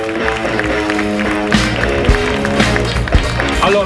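An audience at the Miss Italia Veneto 2018 pageant in Jesolo applauds in a steady, dense wash of clapping, with music and crowd noise mixed in.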